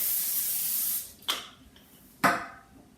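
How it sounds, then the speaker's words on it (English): A steady cooking-spray aerosol hiss onto a baking pan cuts off, then two short, close spray bursts follow with quiet pauses between. "I got to spray my pan."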